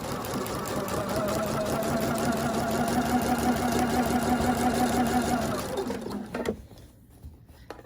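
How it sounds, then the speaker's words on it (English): A home sewing machine stitching a side seam on a fabric scrub cap, a steady rapid whirring hum for about six seconds, then stopping with a few clicks and a quiet pause. "now we'll pivot, and then we're going to sew up the side here"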